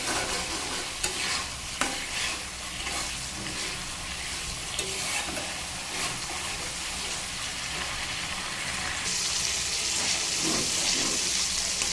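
Sesame paste frying in oil in a pan, a steady broad sizzle with stirring scrapes throughout, growing brighter and louder near the end; no voices.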